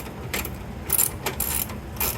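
A wrench works a fitting on an aftermarket fuel pressure regulator kit in a 1990s Mazda Miata engine bay, giving close, brief metallic ratcheting clicks and clinks in short bursts.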